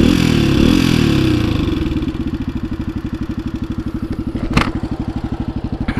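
A Honda XLX 250R motorcycle running with a smoking, oil-burning exhaust, rattling up and then settling into a fast, even idle thump close by, with a sharp knock partway through.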